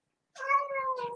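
A single close, clear house cat meow rising then trailing off, heard alone after a moment of silence, as if from behind a door.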